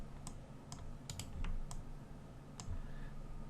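Mouse clicks while working in 3D modeling software on a zombie character, several sharp isolated clicks spaced irregularly over a low steady room hum.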